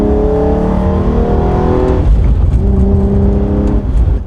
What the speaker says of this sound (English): The V6 back then was like the more sought after type for sure, and it sounds a lot better, to be honest.